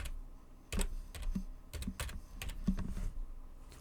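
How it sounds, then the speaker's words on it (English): Someone typing on a computer keyboard, a handful of irregular close key taps and clacks with small gaps between them, fairly quiet and without speech. "I type that in."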